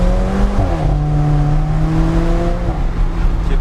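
An Alfa Romeo 4C Spider with a turbocharged engine and dual-clutch gearbox revs up under acceleration, a loud close engine note climbing in pitch, dipping briefly at a shift, then rising again.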